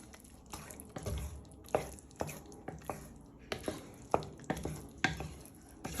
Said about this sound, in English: Then just give that a little bit of a stir in.